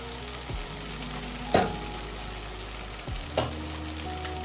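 Onions frying in a pot for beef stew, a constant close sizzle with two sharp clanks of a spoon against the pot as they are stirred, and no talking.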